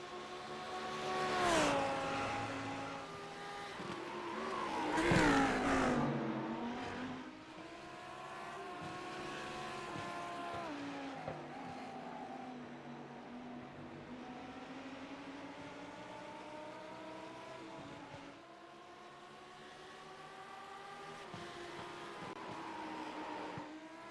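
Lamborghini race cars battle at Zolder in a racing game, their engines whining and revving continuously. Pitch rises and falls through gear changes, with a louder surge as cars pass close by early on.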